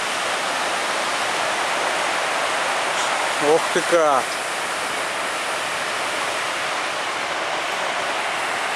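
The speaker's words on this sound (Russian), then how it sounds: "Море сегодня бушует. Вообще бешено бушует." Rough Black Sea surf at Ashe station, heard as a steady, loud broadband roar of crashing waves throughout, with a brief exclamation from a person partway through.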